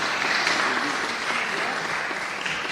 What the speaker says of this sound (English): A cordial applause